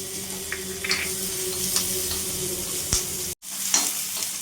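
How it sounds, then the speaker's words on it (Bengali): Chopped onion and green chili sizzling steadily in hot oil, with occasional scraping from stirring and a brief cut in the sound near the end. "পেঁয়াজ কাঁচা লঙ্কাটা একটু ভাজা করব, যতক্ষণ না পেঁয়াজটা একটু নরম ভাব চলে আসে"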